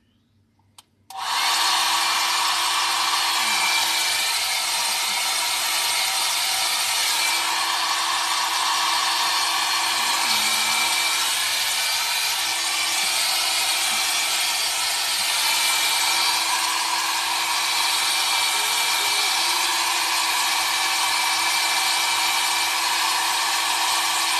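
A hair dryer on a cool setting, drying curly hair, blows steadily and loudly for the whole stretch, a constant broadband whoosh with a faint motor hum underneath and no talking.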